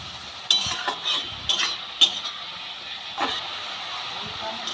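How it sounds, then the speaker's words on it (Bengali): Mustard greens stir-fried in a pan give a steady, close frying hiss, broken by a few sharp clinks and scrapes as a utensil stirs them. "এইভাবেই শাকটা আমি ভেজে নেব।"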